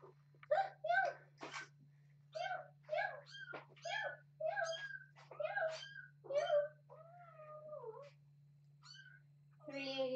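A small kitten meows repeatedly in short, close, high cries, a dozen or so in uneven rhythm, with a longer cry at the end and a steady low electrical hum underneath.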